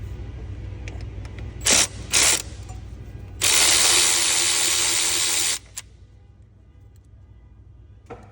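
Ratchet wrench turned with a wobble extension on the charge air system of a Mercedes Sprinter 3.0L 642 diesel engine: two short ratcheting bursts, then a longer sustained clicking run, close and clear, with quiet shop background and no talk.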